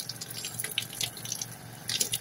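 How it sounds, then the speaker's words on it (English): Water runs steadily from an off-grid outdoor shower fed by black IBC tanks, with a continuous close splashing and spattering hiss and a few brighter drip-like spikes throughout. "Shower!"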